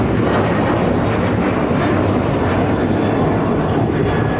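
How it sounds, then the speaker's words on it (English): Alaska Airlines flight 1374, a Boeing 737-900ER, takes off at LAX with a loud, steady, close engine roar and rumble that fills the short stretch without talking. "This is Alaska Airlines 1374 taking off to Loretto on a 737-900ER."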